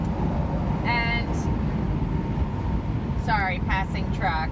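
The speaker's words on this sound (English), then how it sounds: "sorry, passing trucks." Trucks passing on a road in rain, a steady broad rumble and hiss of tires and engines heard from inside a parked vehicle, with brief bursts of a voice talking over it.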